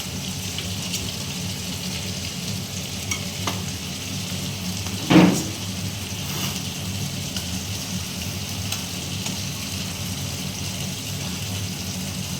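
Chicken tandoori pieces are charred on a heated roti mesh, with a steady, low sizzle and hiss throughout and a brief louder burst of crackle partway through, no voices.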